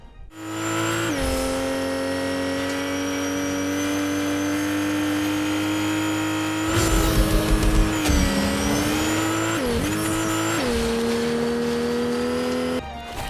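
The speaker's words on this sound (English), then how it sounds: "Also, just listen to that engine sound." A Fortnite video game car engine drones steadily at high revs, then jumps in pitch with shifts, revving surges and a brief skid, loud and close, with no talking.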